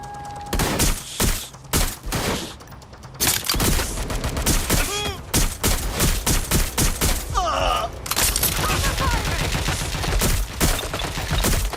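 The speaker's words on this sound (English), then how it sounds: "Shots fired!" Rapid bursts of gunfire crackle through a Watch Dogs Legion combat scene, loud and close, with volleys of shots, thuds and grunting character voices overlapping across the stretch.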